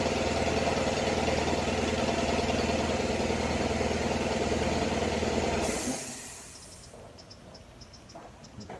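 Steady mechanical drone of an air compressor running in a workshop, loud and continuous for most of the stretch, then cutting off abruptly, leaving a quiet room with faint scattered clicks.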